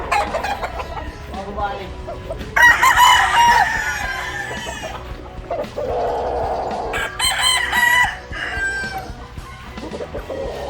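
Fighting roosters on a farm crow loudly and cluck nearby, with several overlapping crows rising over a busy yard, while a person speaks briefly.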